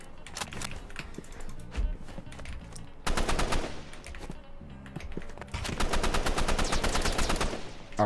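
A paintball gun in a Roblox game fires rapid bursts of shots, loud, dense and sustained, with short gaps between the volleys.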